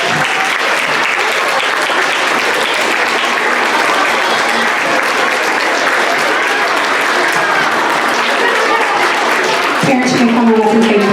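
A school audience applauds as boys and girls come up to the stage, dense continuous clapping filling the room at full level, with a voice breaking in near the end.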